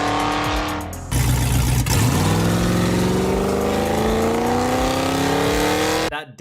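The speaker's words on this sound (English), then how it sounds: "That downshift at the very end" A car engine revs loudly and steadily climbs in pitch, with a sharp rev change and a quick cutoff at the end, close up and without speech.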